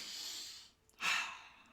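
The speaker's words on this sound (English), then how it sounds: "Crowley sniffs again, but he can't make out anything else." A character's sniff in a fan-made Good Omens video game: a soft breathy sound fades out, then after a brief gap comes one sharper, louder inhaled sniff that tails off gently, alone and close.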